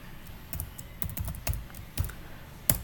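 Quiet, close computer keyboard typing of code into RCommander: a short run of light, irregular key clicks with a couple of sharper presses, alone without talk.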